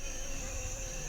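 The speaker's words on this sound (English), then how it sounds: "there was thousands of bees all around all day long" A faint, steady insect buzz and drone fills a Congo jungle where swarms of bees hover all around, with no talking.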